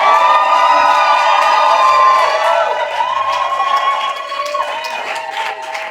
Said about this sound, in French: je vais t'entendre pousser des cris de joie